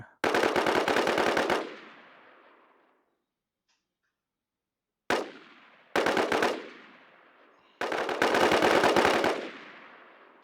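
Automatic gunfire in the zombie shooter NewZ: long loud rapid bursts alternating with short single shots, each burst ringing out in a fading tail, with a near-silent gap between.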